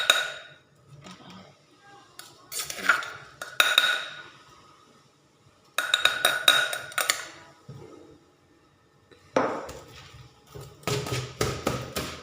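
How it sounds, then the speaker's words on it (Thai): A ladle scoops bamboo shoot curry with pork ribs, mushrooms and angled gourd into a bowl, giving bursts of metal and ceramic clinks and scrapes separated by quiet pauses, close by, with no talk. "เดี๋ยวเขาตักเอาข้าวเบื่อไปใส่แกงหน่อไม้นะ"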